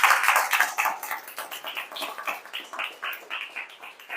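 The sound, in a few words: audience clapping in a hall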